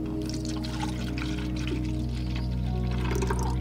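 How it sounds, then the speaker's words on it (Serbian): A glass of fresh raw milk poured steadily into a bowl, giving a continuous close liquid pour over a low background hum, with no talking. "sipate 1 čašu mleka"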